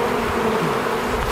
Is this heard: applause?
no